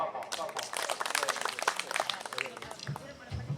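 An audience claps at a Tamil stage debate event, a dense patter of applause that fades after a few seconds, with a voice speaking over it.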